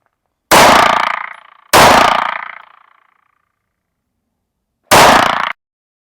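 Three loud, close pistol shots from handgun training on a range, two fired about a second apart and a third after a long pause, each sharp crack followed by a decaying ring, with no talk.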